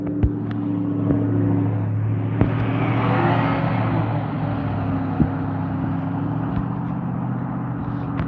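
A car or similar road vehicle rolls past on a street at night with its lights off, a steady engine rumble and tire hiss swelling toward the middle and fading again, with no talk over it.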